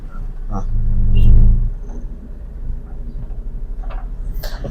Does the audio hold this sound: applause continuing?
no